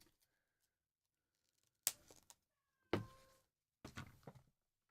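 A cat meows three times in short, separate calls, each with a sharp onset and a brief tail, fairly close and moderately loud in a quiet room.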